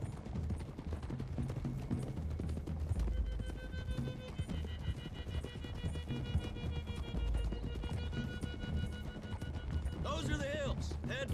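Horses gallop in Red Dead Redemption 2 with continuous rapid hoofbeats and a whinny near the end, mixed under game music and a low rumble; a voice speaks over the ride.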